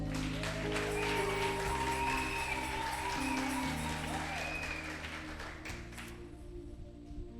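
A congregation at a Marian prayer vigil claps and acclaims under a sustained hum of music or organ, the applause moderate and spread out before it fades toward the end.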